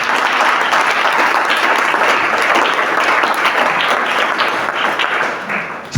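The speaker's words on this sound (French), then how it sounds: "Si tu es avec moi, acclame encore très fort." A church congregation bursts into loud, sustained applause and cheering, a dense wall of clapping that holds steady for several seconds before easing slightly near the end.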